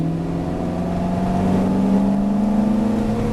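A Ferrari F430 race car engine drones loudly from inside the cabin, a steady growl that climbs slightly in pitch as the car accelerates across the track, with no voices over it.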